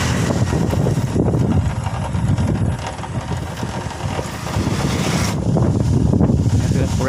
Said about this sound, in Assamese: পূৰা বতাহ মাৰিছে